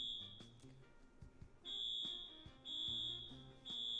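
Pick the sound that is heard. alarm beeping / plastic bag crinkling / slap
alarm beeping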